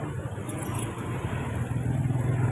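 A car passes on a road outside during Eid al-Adha prayers, heard as a low, steady engine rumble and tyre noise that swells slightly, faint and somewhat distant, with no talking.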